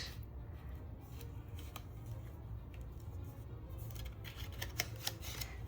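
Paper envelope flaps are folded over one after another for a junk journal, producing soft creases and sharp crisp clicks that grow denser near the end, close and quiet, with no talking.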